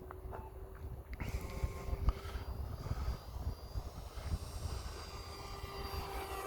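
E-flite Viper RC jet in flight, a steady, fairly distant rushing roar of the electric ducted fan that swells slightly as the model passes, heard alone outdoors without talk.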